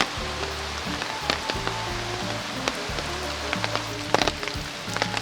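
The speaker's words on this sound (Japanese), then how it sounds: "野良笹にも大粒の雨。" Steady heavy rain patters densely on bamboo grass foliage near a river, with scattered large drops tapping close by and no voices.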